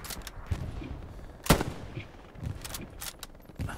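Machine gun and rifle fire in the video game Hell Let Loose, sharp cracking shots in irregular bursts with one louder close report, some distant, no talking.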